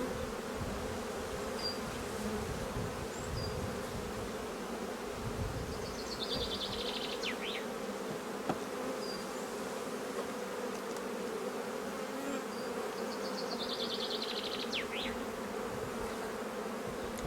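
Honeybees from an opened hive hold a steady, dense buzz throughout, close to the listener, with a few sharper whines of single bees passing near and no talking.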